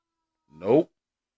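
A single short cat meow in the video game WWE 2K22, rising and falling, close by and alone against silence.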